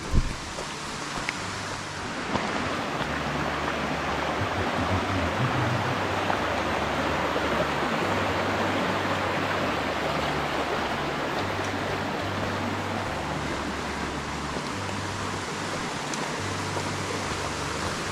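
A creek rushes steadily beside a forest trail in the Great Smoky Mountains, a broad, even wash of flowing water with low rumbling footsteps or handling beneath it, continuous and close, with no talk.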